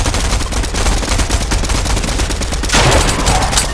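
Gunfire in the Fortnite game comes as rapid, loud automatic bursts close by, a dense rattle of shots that runs throughout with a sharper crack and flurry near the end.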